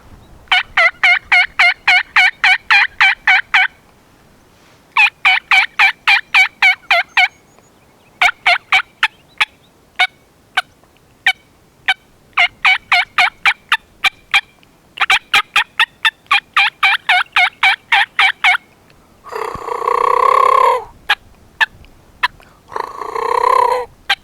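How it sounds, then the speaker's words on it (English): Turkey yelps on a ghost cut mouth call, sharp raspy notes in rapid runs of about eight to twelve, separated by short pauses, loud and close, ending with a couple of longer, rougher purring calls. "Now on the ghost cut, we'll do the yelp."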